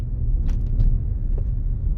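A car engine running in second gear while driving, a steady low rumble and hum with a few faint squeaks over it, close and continuous without speech.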